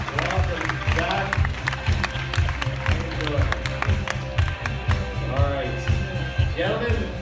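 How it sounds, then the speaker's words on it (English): A studio audience on a game show applauds and cheers, a steady wash of clapping over a pulsing music bed, with a few voices calling out on top. "give them a nice round of applause"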